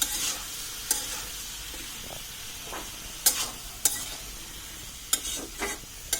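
A potato dish with spices is stirred in a hot pan, giving a soft steady sizzle broken by several sharp utensil scrapes and clacks against the pan.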